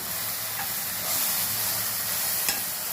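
Tomatoes frying in oil for a fish curry, a steady close sizzle and hiss from the pan with a couple of brief stirring scrapes and no talk.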